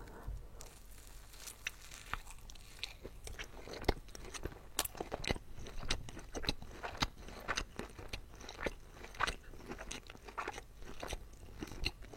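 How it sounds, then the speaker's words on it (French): Crisp, crunchy bites and close chewing on a slightly warm Lebanese falafel, with repeated sharp crackles and tearing over steady mouth sounds, heard up close and continuing throughout. "on va croquer dans ce bon falafel"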